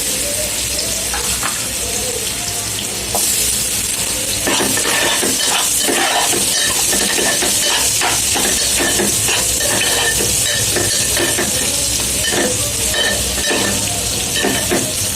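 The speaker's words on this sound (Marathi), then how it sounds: "आता याच्यामध्ये कैरी टाकायची." Raw mango pieces go into hot oil spiced with chili powder and turmeric, a loud steady sizzle that swells as they drop in, with stirring and scraping of a spoon against the pan.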